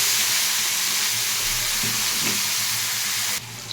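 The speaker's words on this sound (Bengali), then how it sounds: "এখন ফুলকপিগুলোকে ভেজে নিচ্ছি এক করে" Cauliflower pieces sizzle in hot oil in a pan, a continuous dense frying hiss that stays loud and even throughout, with a faint low hum underneath and no voices.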